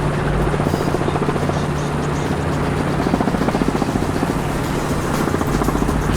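A Robinson R22 helicopter in Microsoft Flight Simulator, a Cowan Simulations model, drones with a loud, continuous engine roar and a fast, steady rotor beat, close and unbroken, with no speech over it.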